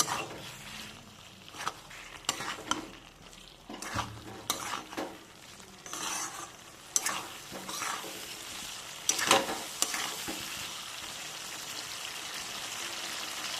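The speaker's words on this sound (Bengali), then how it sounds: "এখানে অ্যাড করবো আমি ভেজে রাখা আলুগুলো দিয়ে আবারও ভালো করে কষিয়ে নেব" Fried potatoes being stirred and sautéed with spice masala in a pan for Bengali katla kalia, a fish curry, giving irregular scraping stirs over a soft steady sizzle, close and moderately loud, with no talking.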